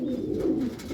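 A red Madrasi pigeon coos once, a low, close, throaty murmur filling the short moment without any speech.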